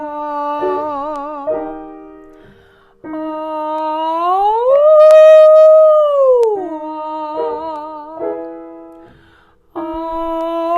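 A voice imitates a wolf howl as a vocal warmup, sustaining rounded "ooh" tones that waver, then slide up into a long arching howl and back down, loud and close with clean harmonics.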